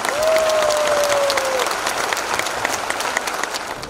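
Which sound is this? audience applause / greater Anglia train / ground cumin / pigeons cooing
audience applause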